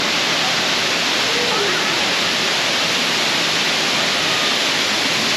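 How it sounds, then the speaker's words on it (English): Tall 63-foot waterfall in a Nebraska park pouring into its pool, a loud, steady broadband roar that stays constant and close for the whole stretch, with no voices over it. "63-foot tall waterfall in Smith Falls Park"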